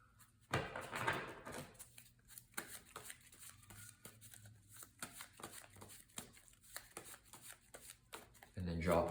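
Cards being shuffled close by in several bursts, soft riffles and taps between them, ending with a louder riffle.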